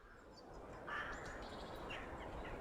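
Faint clucking of chickens in the Manor Lords video game, a few soft calls over low ambient game background, with no speech.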